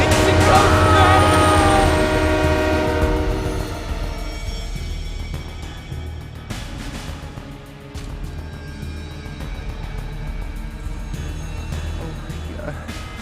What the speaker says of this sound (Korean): Oh, it's coming! It's coming! It's coming! No! Oh my God! No! It's the ghost train!